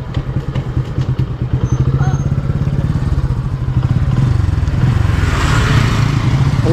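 A motorcycle engine close by at a campsite area, loud throbbing putter that builds steadily and grows louder as it nears, with clattering and faint voices beneath.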